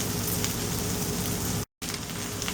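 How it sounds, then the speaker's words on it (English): Okra cut lengthwise into long pieces sautés in a pan, giving a steady, close sizzle with a brief gap partway through. "I'm going to saute this one for 5 to 10 minutes, then add the spices."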